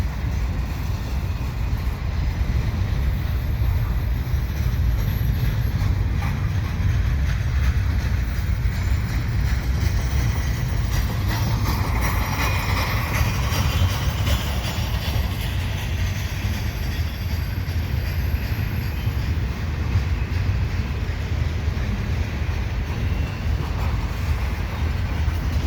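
A CN double-stack freight train rolls slowly through St Henri, its steady rumble and wheel noise continuous and fairly close for the whole stretch, with no voices.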